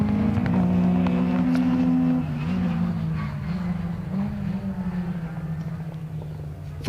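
Rally cars on a 2025 stage roar past, one engine droning loudly up close before fading as another car follows, leaving a rough, rumbling wash of engine noise that trails off.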